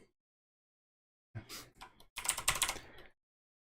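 Keys tapped on a computer keyboard in a quiet room: two short clusters of soft clicks, a brief pair followed by a denser run of rapid presses, close and fairly faint.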